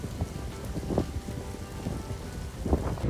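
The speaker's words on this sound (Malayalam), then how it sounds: "ഈ ഇടിയും മഴയുമെല്ലാം ചേർന്നതാണ്" Heavy rain falls during a thunderstorm in Medina, a dense, steady hiss of drops on surfaces with low rumbles of thunder swelling in and out underneath, close and continuous.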